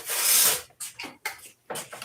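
Coarse 40-grit sandpaper rasps against foam: one long, loud stroke, then four shorter scrubbing passes in an uneven rhythm, close and with no voices.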